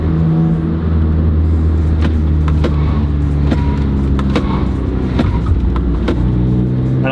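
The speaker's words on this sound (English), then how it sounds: "I just hear my tires killing themselves right now" A loud, steady Mazda 3 engine drone with road and tire rumble, punctuated by scattered sharp ticks and squeaks as the car drives with a newly installed strut bar.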